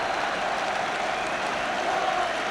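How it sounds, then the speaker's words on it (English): A football stadium crowd at Spurs v Everton applauds a player back from injury, the clapping a dense, steady roar of many hands throughout, distant and unbroken. "the crowd giving him a tremendous reception"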